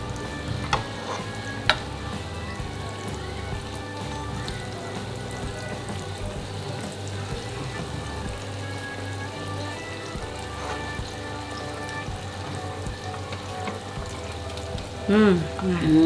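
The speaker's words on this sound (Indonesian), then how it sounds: "Masukin nih, kita goreng." Tahu juralit tofu snacks frying in hot oil, a steady close sizzle and crackle running throughout, with occasional stirring and a brief voice near the end.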